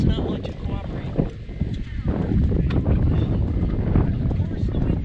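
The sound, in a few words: wind while sailing a boat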